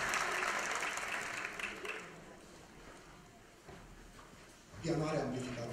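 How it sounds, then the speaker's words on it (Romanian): Applause from a theatre audience at a spring show by a Romanian folk ensemble, fading over a few seconds, then swelling again near the end, with voices mixed in. "Aplauze și pe voi"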